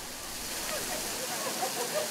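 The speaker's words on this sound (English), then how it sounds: "The lunch crowd welcomed the return of the waterfall-style Monarch Place fountain today." A waterfall-style downtown fountain at Monarch Place pours in a steady, even rush of falling water, heard up close with no voices over it.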